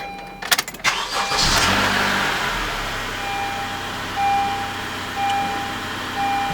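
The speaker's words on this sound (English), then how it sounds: "Start the engine in park." A 2013–2015 Honda Accord engine with a CVT transmission cranks and catches after a few sharp clicks, then settles into a steady, close idle hum with a faint high whine.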